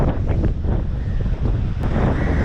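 Strong wind roars and buffets the microphone continuously at Galle Fort's Black Rock Bastion in Sri Lanka, a dense rumbling rush with no voices.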